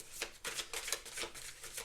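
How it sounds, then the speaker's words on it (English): A deck of tarot cards shuffled close by, soft papery riffling bursts in quick succession, fairly quiet. "I'll do one more shuffle"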